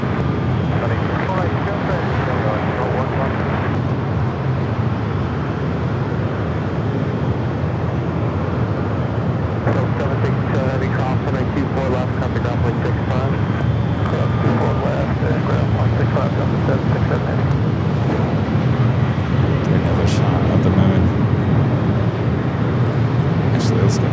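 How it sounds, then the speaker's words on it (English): An Airbus A350-1000 airliner inbound from Doha flies the downwind leg on approach to Los Angeles International Airport, giving a steady, distant broadband jet roar that fills the whole stretch without a break. "Now on the downwind leg, flight 739 coming up from Doha, A350 1000 heading here to the north."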